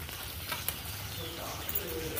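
Pointed gourd curry sautés in oil in a home kitchen pan, giving a soft, steady sizzle with faint stirring. It is fairly quiet and continuous, with no talking.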